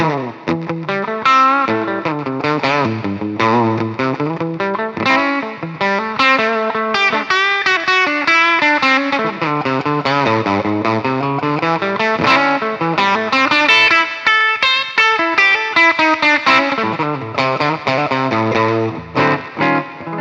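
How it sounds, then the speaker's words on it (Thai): A Passion BPS-RG270 electric guitar with hot, high-output pickups, in a rock style, is played through its bridge pickup. Loud, continuous melodic phrases with sustained notes and an effected, slightly gritty edge run for about twenty seconds with no talk. "เสียงคลีนตัวบิดก็ประมาณนี้นะครับ"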